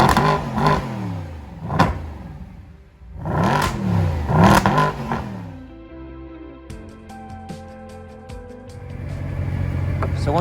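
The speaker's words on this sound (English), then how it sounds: "So I've opened up the windows. This is how it sounds inside the car." A Mercedes-Benz SLS AMG sports car engine revs hard in repeated surges, heard from inside the cabin with the windows open, then settles as the gears shift and it cruises.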